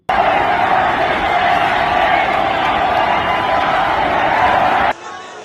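Rioting crowd during anti-government protests in Nepal, a dense continuous roar of many shouting voices that holds steady at high volume before cutting off abruptly.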